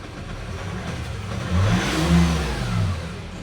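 Engine of a 2019 Nissan Terra with an injector fault running and revving up briefly, a rough, uneven mechanical drone close by with a slight swell midway, no talk.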